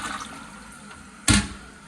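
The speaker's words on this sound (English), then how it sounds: "Flush test." A toilet flushes in a house bathroom with strong water pressure, beginning as a sudden loud rush of water that roars close by.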